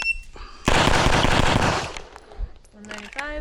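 At a shooting range, a loud, dense burst of rapid gunfire lasts just over a second, followed by quieter handling noises and brief talk.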